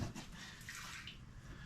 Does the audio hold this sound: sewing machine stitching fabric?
no